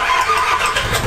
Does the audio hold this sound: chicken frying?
no